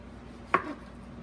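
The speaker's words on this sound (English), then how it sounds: "you can either cut it the long way or in French style slices, meaning diagonal slices." A knife slices through a ripe plantain on a cutting board in a single short, crisp chop, close and isolated against quiet room tone.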